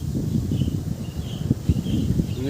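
Steady wind blows and buffets the microphone in gusty low rumbles, with faint rustling and a few distant chirps.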